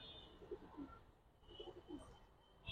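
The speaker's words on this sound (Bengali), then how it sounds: "অনেক সুন্দর একটা কবুতর দর্শক" An adult pigeon coos softly several times in low, throaty pairs, close by and faint, with a little chirping and background hiss around it.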